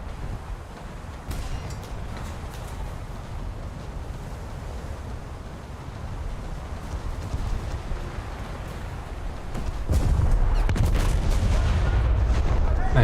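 Anti-aircraft guns on a warship in a naval video game hammer away continuously, a dense rumbling barrage that grows louder and heavier toward the end.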